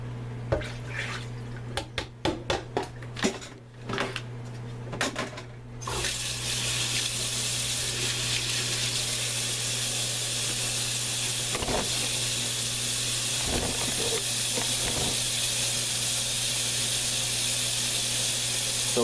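Tap water runs steadily into a sink while fish skins are rinsed, starting with a few splashy handling noises before settling into a continuous close hiss of flowing water.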